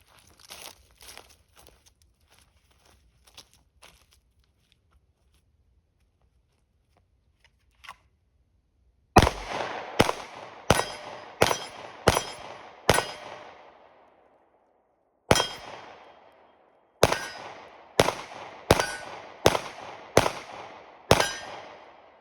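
Pistol shots from a Sig P365XL with a 12-round magazine ring out sharply outdoors: one isolated shot, then a rapid string of five, a pause, one more, and a final volley of five, each crack trailing a short echo, after faint handling noises.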